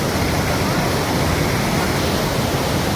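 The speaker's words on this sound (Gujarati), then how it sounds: "જુઓ મિત્રો, ધસમસતું પાણી આવે છે." Floodwater of the Singhada river rushing downstream after dam gates were opened, a loud, steady, close roar of turbulent water with no pause, alone and without voices.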